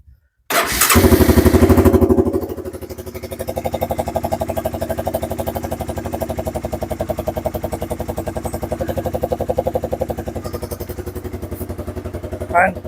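A small engine starts up after its carburetor is cleaned, then idles steadily and evenly with a loud, close, continuous putter, and a voice speaks briefly at the start.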